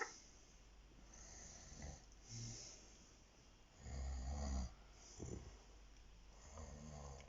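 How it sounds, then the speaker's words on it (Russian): Heavy, loud snoring repeats in slow cycles, each deep rumbling inhale followed by quieter breathing, captured close in a quiet room with no talk. "Богатырский храп."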